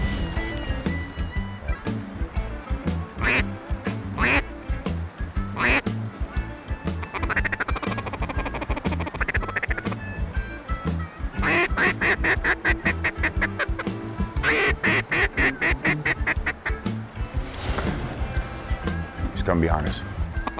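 A gray duck quacks at a duck camp, its calls caught amid busy, loud activity with people talking over it throughout.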